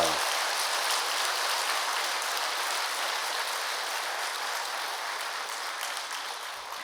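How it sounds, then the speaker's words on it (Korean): A congregation applauds a young adults group during a special dawn prayer service at a Methodist church in Gangneung. The clapping is a continuous, even wash of sound that stays steady and slowly tapers toward the end. "우리 청장년 다시 한번 축복의 박수를 보내주시길 바랍니다"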